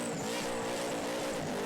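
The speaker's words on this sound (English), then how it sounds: "These blown injected LS engines just have this natural sound that they produce of this whine when the butterflies open." A blown, injected LS engine in a Holden VL burnout car at Sydney Dragway roars at high revs, loud and close, with a continuous supercharger whine and a hint of tire squeal.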